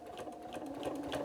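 Sewing machine stitching a quilted Santa cookie rug, a brief quick run of rapid mechanical needle clatter with a steady motor hum, close and moderately loud.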